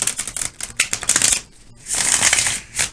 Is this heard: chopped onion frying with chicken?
no